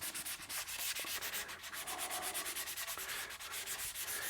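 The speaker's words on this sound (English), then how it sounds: "I kept sanding into the mahogany" Rhythmic back-and-forth sanding strokes rasp across masking tape and mahogany binding on a guitar body during finishing. The strokes come close and evenly paced with no voices.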